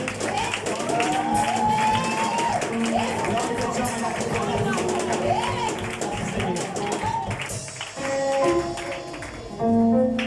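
A church congregation breaks into sustained applause and acclamations, with dense clapping, cheering and shouted voices filling the room and continuing at full volume to the end.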